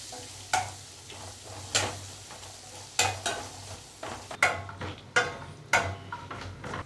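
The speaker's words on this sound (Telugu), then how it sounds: "ఉల్లిగడ్డలు వేగి లైట్ పింక్ కలర్లోకి వచ్చింది" Onions and asafoetida frying in a hot tempering with curry leaves, giving a steady sizzle broken by repeated scraping stirs at a close distance, with no voices.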